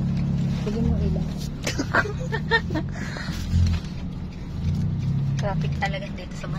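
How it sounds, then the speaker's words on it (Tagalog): A car moving through Manila traffic, its low engine rumble steady under an interior cabin hum, with people talking throughout over the drone. "Traffic talaga dito sa Manila."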